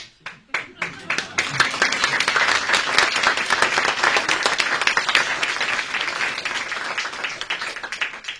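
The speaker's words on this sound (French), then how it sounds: "n'hésitez pas à les soutenir, à nous soutenir par vos applaudissements chaleureux" A concert audience at a Musique & Spectacles Girard singing-section show starts with a few scattered claps, then swells into warm, loud, sustained applause that slowly fades, with faint talk underneath.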